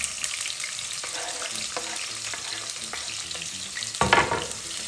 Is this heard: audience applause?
no